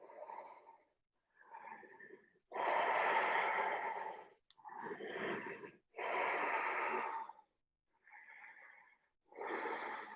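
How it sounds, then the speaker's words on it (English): Deep breathing during a stretching session, slow loud inhales and exhales alternating with short pauses, close to the ear, including several long heavy exhalations and a few shorter breaths. "Deep breaths."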